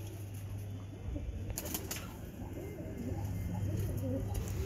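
Low, throaty cooing from Madrasi pigeons close by, repeating steadily against a noisy background with a few brief rustles and flutters.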